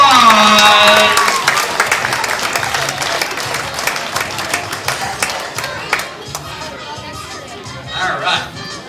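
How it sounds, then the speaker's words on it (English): A live magic-show audience bursts into loud, dense applause that tapers into scattered clapping and crowd chatter, with a few brief swells near the end. "Give this guy a big round of applause."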